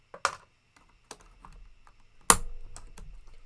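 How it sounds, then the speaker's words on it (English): Clicky keystrokes on a mechanical keyboard with a typewriter-like sound, a few sharp isolated presses followed by a louder burst of typing, close and alone with no talk. "Keyboard sounds like a typewriter?"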